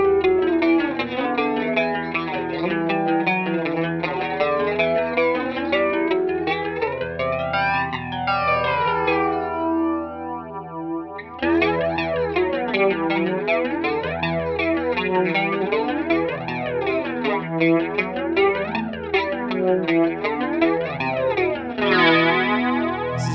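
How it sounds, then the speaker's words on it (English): Electric guitar through an Aroma (Tomsline) Twister flanger pedal, an Electric Mistress clone, as sustained chords sweep in jet-like whooshing combs moving up and down, loud and continuous with a brief pause midway. "that's where you've got your more chorusy flange sounds"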